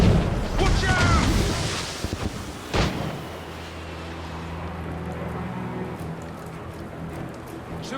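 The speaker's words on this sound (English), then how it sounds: "Chevalier is using mortars to stop Shay." Mortars fire in Assassin's Creed Rogue, a dense, rumbling barrage with a sharp blast near the three-second mark, fading into a lower ambient drone and scattered crackles.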